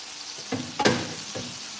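Beef with adobo sauce sizzles in a hot frying pan as it is stirred, a steady close crackle with a few louder spatters.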